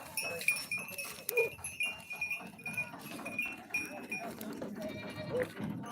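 Goats at a weekly goat market, bleating now and then amid a busy crowd murmur, with people talking nearby throughout.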